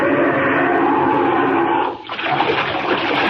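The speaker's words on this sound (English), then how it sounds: "Down, down, right into the water." Radio drama effect of plunging down into icy Arctic sea water: a loud, continuous rushing water wash that dips briefly midway, then surges on, heard alone.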